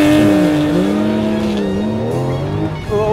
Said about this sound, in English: Oh yeah, launch control activated.